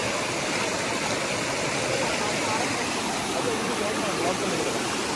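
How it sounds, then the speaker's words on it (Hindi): A small waterfall of clean water near Kharghar, Mumbai, in the rainy season makes a steady, even rush of falling water throughout, with faint voices mixed into the roar. "तो देख सकते हो मैं इधर पहुँच गया छोटे झरने के पास"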